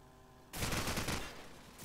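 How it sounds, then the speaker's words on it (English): Rapid automatic gunfire in a competitive shooter video game tournament match, a dense loud burst that cuts in abruptly and sustains, continuing to rattle before easing slightly at the end. "Comes under some fire"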